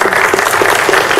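Audience clapping for a nervous conference speaker, a dense steady patter of many hands that fills the short moment without any voices on top.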